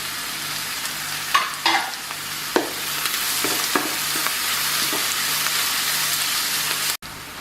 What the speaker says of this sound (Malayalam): ഒരു 1/2 ടീസ്പൂൺ ഉപ്പ് പൊടി ചേർത്തൊന്ന് വഴറ്റുക.